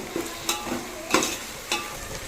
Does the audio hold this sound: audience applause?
no